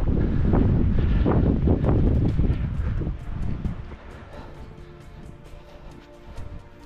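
Strong mountain wind buffets the microphone in a snowstorm, a loud, continuous roar with gusty surges that ease somewhat after the first few seconds.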